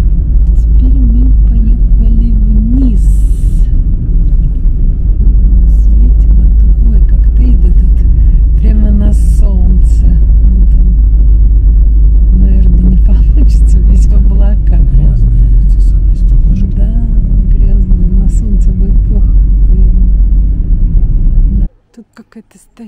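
Car interior while driving downhill on a road through Teide National Park in Tenerife, a loud continuous engine and road rumble under ongoing conversation, cutting off abruptly at the end.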